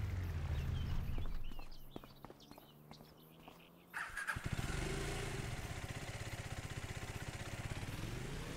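A motorbike engine in the video game Farming Simulator 25 idles, then revs up and settles into a steady rhythmic putter, loud and close, with some clunks before it catches.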